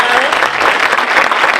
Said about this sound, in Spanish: Queremos entonces pedirle a ustedes un gran aplauso para los candidatos